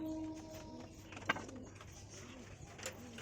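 Pigeon cooing at a bird sale: one soft, brief coo sounds close amid low background noise, with faint calls trailing later.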